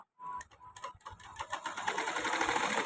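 Electric sewing machine stitching the hem of a petticoat, its rapid mechanical whirr starting after a brief pause and building to a steady, close, continuous run.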